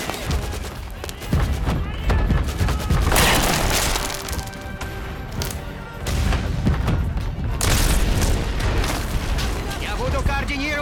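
The guns of the cruiser Slava fire in a naval battle, making heavy booms and crashing blasts over a dense, loud roar of battle noise, with shouted voices mixed in.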